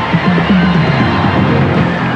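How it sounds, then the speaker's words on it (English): A stadium crowd at Belmore roars continuously after a Canterbury-Bankstown try against Eastern Suburbs in a 1985 rugby league match, a loud, dense wall of cheering and shouting with no break. "Crowd loving it."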